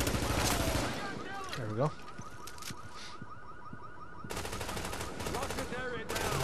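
Enemy gunfire in The Division, rapid automatic bursts crackling at the start and again near the end, with a warbling electronic tone between and someone talking briefly.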